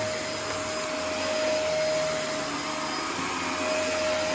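A Dyson DC24 upright vacuum cleaner runs steadily at close range, a loud continuous airy whine with a fixed high tone and no talking.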